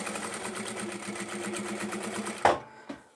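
A sewing machine runs a steady rhythmic stitch along a scarf scrunchie, then stops with a sharp clack and a softer click afterward.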